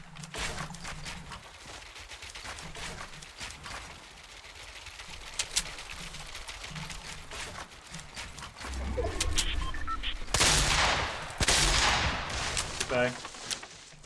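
Fortnite gunfire echoing through a match, scattered shots and bursts at varying distances, growing louder and denser toward the end with some rumbling impacts.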